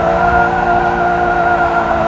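A drift car holds steady throttle on a track, its engine droning loud and close at a near-constant pitch with a strong buzzing harmonic tone throughout, no voices over it.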